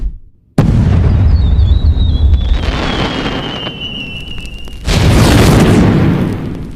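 Fireworks go off outdoors in loud, close booming blasts, one heavy burst followed by a rumbling, crackling tail, and then a second big blast that rolls on and slowly fades.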